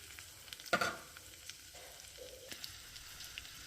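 Garlic cloves and tempering seeds sizzle in hot oil for a chutney tempering, with a sharp crackle near the start followed by a softer, steady frying hiss close by. No voices are present.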